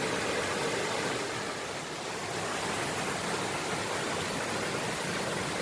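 Thai waterfall at Tharn Ngam, a steady, even rush of falling water like broadband hiss, moderately faint and constant throughout, with no speech.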